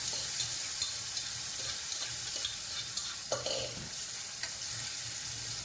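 Mashed taro leaf mixture added to a garlic tempering and stirred in a pan, a soft steady sizzle with light scraping strokes and a couple of clinks, quiet and close, without speech.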